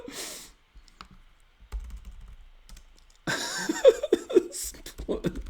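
A computer keyboard is typed on in a few quick bursts of soft clicks, with quiet gaps between them, before voices and laughter come in louder near the end.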